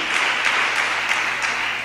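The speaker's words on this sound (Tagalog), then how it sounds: "Malakas na palakpak sa ating mahal na Panginoon" Loud, steady applause from a church congregation during a worship service, dense clapping filling the space without pause.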